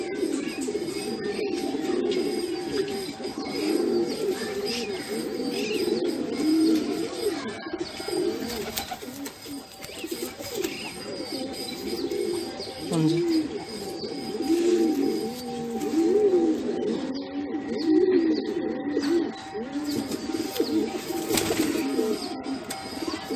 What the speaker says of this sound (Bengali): দাদার আরেকটি ধাড়ি পায়রা নর পায়রা